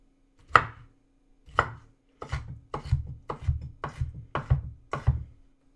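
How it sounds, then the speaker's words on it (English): A knife dices bread and butter pickles on a cutting board, giving eight or nine sharp close chops with a woody thunk, first spaced apart and then in a quicker, steadier rhythm, with no speech. "I'm going to start dicing up the bread and butter pickles."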